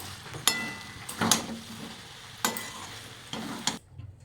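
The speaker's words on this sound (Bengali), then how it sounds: "ভালো করে নাড়াচাড়া করে নেবো" Pasta with egg stirred in a pan: four or five loud, close scraping strokes of a utensil over a soft sizzle, spaced about a second apart, with no voices.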